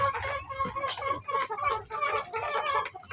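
Farm chickens raised for sale cluck in a busy, overlapping chorus close by, with a person talking over them.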